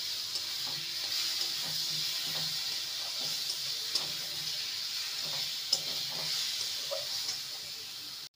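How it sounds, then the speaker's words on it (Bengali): Fried potato pieces are stirred with spice paste in a pan, giving a low steady sizzle with soft scraping stir strokes repeating throughout. "মশলার সাথে আলুকে ভালো মতন কষিয়ে নিয়েছি"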